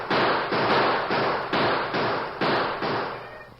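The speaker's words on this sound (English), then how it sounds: "Open fire." Rifle gunfire in a radio drama shootout: eight sharp, loud shots fired at a steady pace, each with a brief decaying tail and no talk between them.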